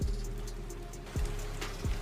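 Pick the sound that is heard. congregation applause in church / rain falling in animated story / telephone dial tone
rain falling in animated story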